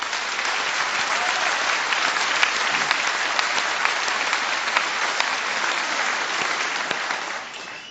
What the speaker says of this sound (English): And give yourselves a round of applause first.